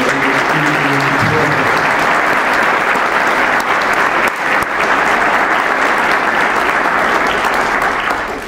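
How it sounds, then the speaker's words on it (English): Loud applause from an audience at a parliamentary event for a women-led revolution honours speaker Melissa Lantsman, a sustained, dense roar of clapping that holds steady before fading slightly at the end. "And we give another round of applause for her."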